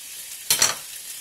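Onions hitting a hot pan for a chunky spaghetti meat sauce, giving a brief sharp sizzle that flares up and settles back into a soft hiss.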